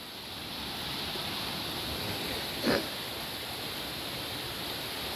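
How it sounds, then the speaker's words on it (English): Steady broadband rush of a creek on Grandfather Mountain, North Carolina, flowing continuously at moderate level, with one brief louder splash or knock partway through and no voices. "And down here on the creek"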